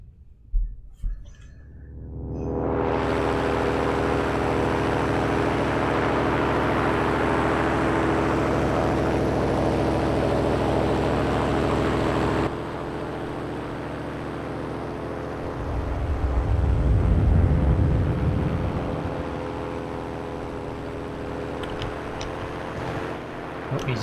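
A propeller aircraft engine flying in the World War II shooter Heroes & Generals, rising quickly to a loud, steady droning roar. It then drops slightly in tone while a low rumble swells and fades, and no voices.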